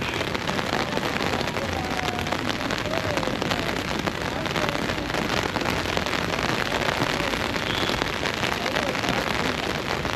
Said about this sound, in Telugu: ఒకటే వర్షం నాన్ స్టాప్ అసలు ఇస్తలేదు వర్షం